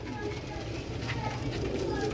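A flock of Ustad Imam Deen pigeons coos continuously in low, rolling tones, steady and close, mixed with a voice.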